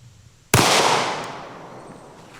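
A single loud gunshot from a 5.7 round striking a bulletproof helmet, the Premier Fortis, cracks sharply and then rings out in a long decaying echo outdoors, with no talking.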